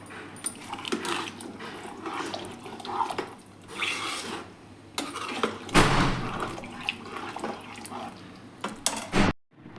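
Hot water pours steadily into a pot of mint pulao coated with masala. The liquid splashes and gurgles continuously at close range, with one louder surge midway and a brief silence near the end.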